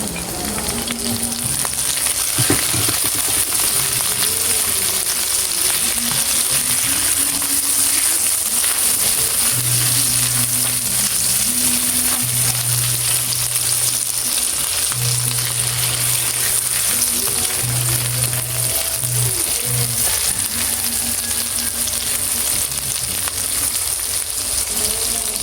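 Onions frying in a pan, a loud continuous sizzle and crackle with a steady low hum and intermittent droning tones in the background.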